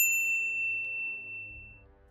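A bright single notification bell ding rings out clearly at the start, then rings on and fades over about two seconds with a faint second chime midway.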